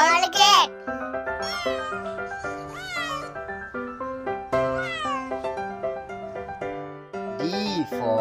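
A cat meows repeatedly in drawn-out, rising and falling cries, close and fairly loud, with a child-like voice and music-like tones mixed in.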